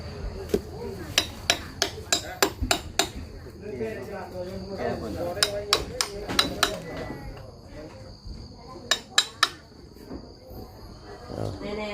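Hammer blows ringing out while villagers raise a wooden house pillar in the morning, sharp separate strikes in quick bursts of several, close and loud, with people talking throughout and insects chirping in the background.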